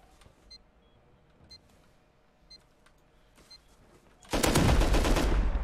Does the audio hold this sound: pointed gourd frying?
no